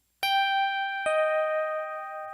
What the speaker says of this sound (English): When you hear this chime,